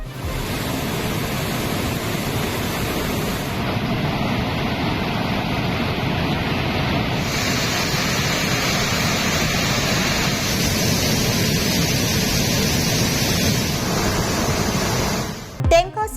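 The Vaigai River, once dry, now rushes with water in a loud, continuous broadband roar that holds steady throughout, ending with a brief clatter.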